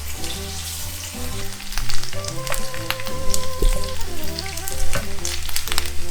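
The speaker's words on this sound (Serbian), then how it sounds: "Pržim luk. Mešam da ne zagori." Chopped onion fries in a pan and is stirred, with a loud, steady sizzle and the scrape of the spoon over soft background music.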